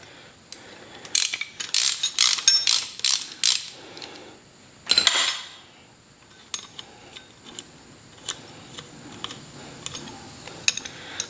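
A wrench loosens the front sprocket on a Haro BMX bike, producing a fast series of sharp metallic ratchet clicks up close, then a brief grinding burst and scattered lighter ticks and taps, with no speech.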